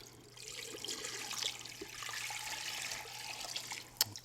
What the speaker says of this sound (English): you can always add a little bit more water.